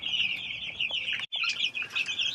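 Chickens at a farm cluck and chirp densely at feeding time, with bursts of wing flapping, a continuous close flock noise with one brief gap.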